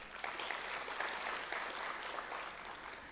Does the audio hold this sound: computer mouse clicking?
no